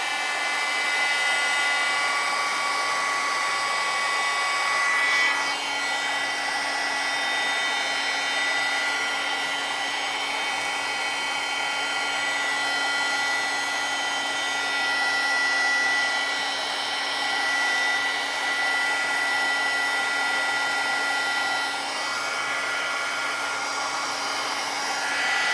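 A hair dryer blows steadily and loudly on a handmade scrapbook card, a continuous whining hum that holds almost unchanged for about 25 seconds with only slight shifts in pitch.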